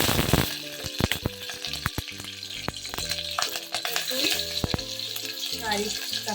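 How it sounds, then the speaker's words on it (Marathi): Cumin seeds land in hot oil in a pot and sizzle with a busy crackle, close and fairly loud, mixed with clinks of a utensil against the metal throughout, and no voice. "टोपामध्ये मी तेल घातलेलं आहे थोडं। आता याच्यामध्ये जिरं घालते"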